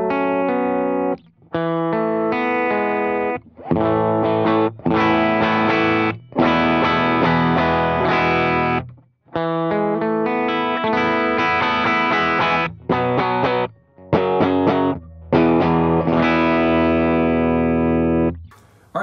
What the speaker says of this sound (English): So here is just some clean tone. I've got my compressor on.